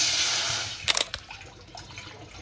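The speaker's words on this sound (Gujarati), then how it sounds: "તો આમાં પાણી નાખશું પહેલાં" Water pours steadily with a soft rushing hiss, then a few quick splashes and drips into a cooking pot for boiling rice, close and fairly quiet.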